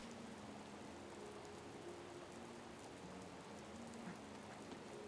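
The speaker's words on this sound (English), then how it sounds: "you would think fish people wouldn't mind constant rain" Steady rain falling in Zora's Domain in Zelda: Breath of the Wild, an even, continuous hiss of raindrops with faint melodic game tones drifting underneath.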